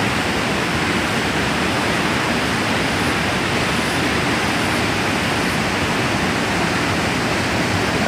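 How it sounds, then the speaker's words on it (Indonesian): Swift river current rushing over exotic rocks on the Polaga river at Watu Sewidak: a steady, loud, unbroken roar of churning water fills the whole stretch with no voices. "Biarpun arusnya deras"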